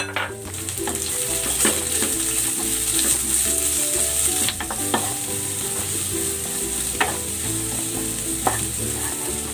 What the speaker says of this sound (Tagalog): Igisa ko na rin tong sibuyas.